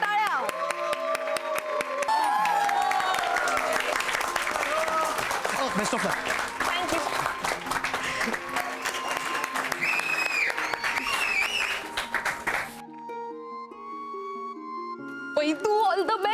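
A studio audience claps loudly and steadily for a contestant at a poetry competition for about thirteen seconds, then the applause cuts off and brief talk follows.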